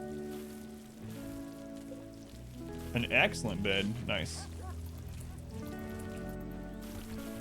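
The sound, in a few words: rain falling in RimWorld video game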